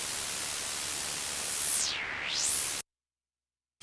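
Raw noise-waveform synthesizer patch with no effects, a steady loud hiss whose upper brightness dips and then sweeps back up before cutting off abruptly into silence.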